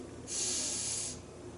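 A person takes one long, airy inhale through the nose during a guided breathing exercise, a close breathy hiss lasting about a second over quiet background.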